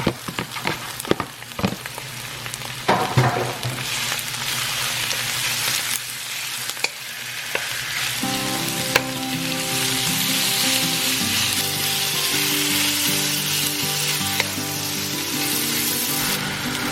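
Thin-sliced bulgogi beef steak dropped into a pan with garlic and vegetables for stir fry, the sizzle swelling loud and steady after some early utensil knocks, close up with no talk.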